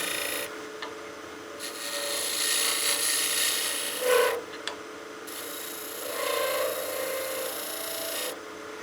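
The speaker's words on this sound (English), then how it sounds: "I'm just going to roll that skew over to get that corner down where I need it" A skew chisel cuts a small wooden bat house ornament spinning on a lathe, making a continuous scraping, hissing rasp in several passes separated by brief pauses, alone and close.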